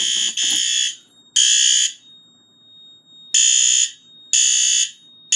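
Fire alarm sounding after a Simplex pull station is activated during a system test, giving loud, piercing electronic tones in repeated bursts separated by short gaps, with no talk over it.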